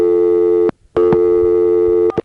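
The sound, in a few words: payphone dial tone interrupted by coin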